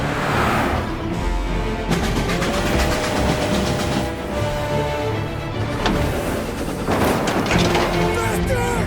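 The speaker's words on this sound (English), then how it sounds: "Trying to beat the train!" A train rushes past in Mafia: Definitive Edition, a loud, steady rumble and rattle of rail cars that lasts throughout with brief surges, close by and dense.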